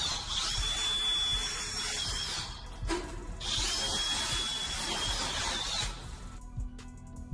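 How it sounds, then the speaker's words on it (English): A power drill bores through a metal door lock, whining loudly and steadily in two long bursts with a brief pause between them, then stopping and leaving quieter clatter at the end; no voices. "staff began drilling through the lock to grant them access"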